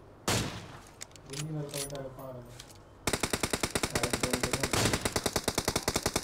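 Video game gunfire in a battle royale squad match: a single shot, then a long rapid automatic burst of machine-gun fire, loud and close, with players talking over it.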